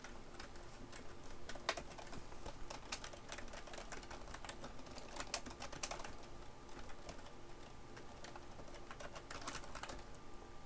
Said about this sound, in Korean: 그 다음에 영타를 칩니다.